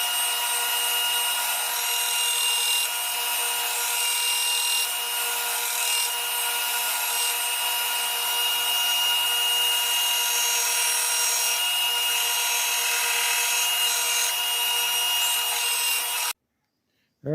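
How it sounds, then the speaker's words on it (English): A wooden handle for a Japanese bunka knife being sanded roughly to shape, giving a steady, loud abrasive rasp that runs unbroken for about sixteen seconds before stopping abruptly. "now I'm going to sand it down to mostly to shape, roughly to shape"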